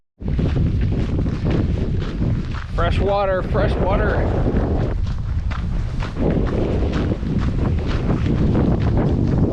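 Strong wind buffets the microphone with a steady low roar throughout on the Laugavegur Trail in Iceland, while a person briefly speaks in the middle.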